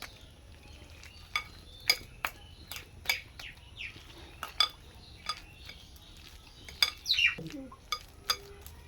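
Raw banana kofta mixture is mixed in a bowl, with soft scraping and a scattered series of light metallic clinks and taps, fairly close, in a quiet kitchen.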